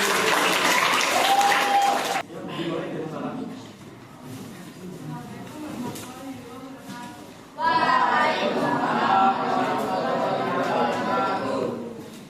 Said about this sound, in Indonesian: beri tepuk tangan untuk kelompok yang